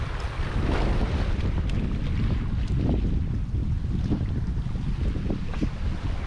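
Strong wind buffets the microphone at sea with a constant roar, mixed with boat and wave noise, loud and steady throughout with no talking.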